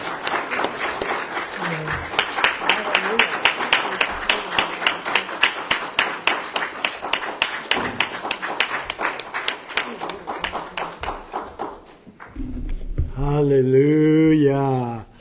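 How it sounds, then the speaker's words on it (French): A church congregation applauds steadily with dense, rhythmic clapping during a Sunday service. A voice speaks over the clapping, and the applause fades near the end as singing or speech takes over. "est-ce qu'on peut donner une bonne main d'applaudissement"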